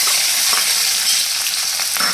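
Cumin, chopped green chili and onion hit hot oil in a pan, producing a loud, dense, continuous sizzle with faint crackles throughout the short stretch.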